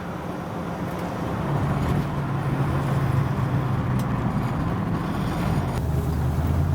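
A 1965 Ford Mustang accelerating on a road, heard from inside as a steady, loud engine drone that rises in pitch after a couple of seconds over road and wind noise.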